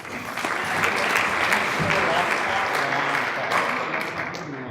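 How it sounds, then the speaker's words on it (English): A conference audience applauds loudly and steadily, dense clapping filling the space without a break for several seconds. "Please give a big round of applause."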